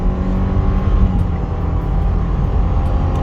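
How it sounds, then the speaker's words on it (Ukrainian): A 2015 Subaru Legacy 2.5 with automatic transmission accelerates hard from a standstill toward 100 km/h on an uphill road, its engine a loud, steady, dense drone heard from inside the car with no talking. "Зараз ми тестуємо розгін від 0 до сотні."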